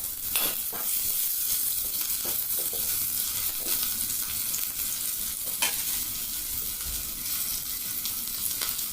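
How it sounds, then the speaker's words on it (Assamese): Onions fry in hot oil previously used for frying fish, with a loud, steady sizzle, broken by occasional scraping stirs and brief crackles. "পিঁয়াজখিনি অকণমান ৰঙচুৱা হোৱালৈকে মই ভাজিম।"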